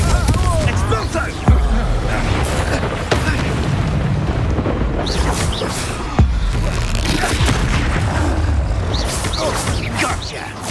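Spell blasts in Hogwarts Legacy, Confringo and Expulso, burst as booming impacts and crackling explosions during a combat fight, with several sharp hits standing out from a dense, loud rumble of battle effects.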